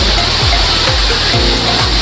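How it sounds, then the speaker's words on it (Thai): An artificial garden waterfall at an Italian-style restaurant's garden pours water in a loud, constant rushing wash, close and unbroken. "น้ำตกจำลอง สวยมากเลย"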